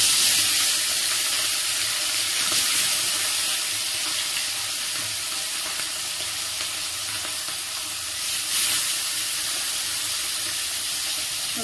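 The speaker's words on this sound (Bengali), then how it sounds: "তেল গরম হয়ে গেছে, এবার মাছগুলো ভেজে নেব।" Katla fish frying in hot white oil in a wok, a steady loud sizzle and crackle running throughout with brief louder bursts, no talking.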